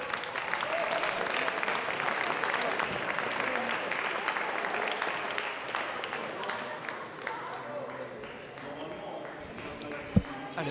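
Applause from the audience at a French men's elite weightlifting championship final in 2018, a steady wash of clapping lasting several seconds that thins toward the end, with a single sharp knock near the close.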